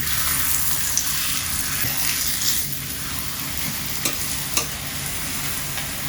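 Scallion pancake frying in oil in a pan, a steady close sizzle running throughout with a few soft clicks and scrapes of a utensil against the pan.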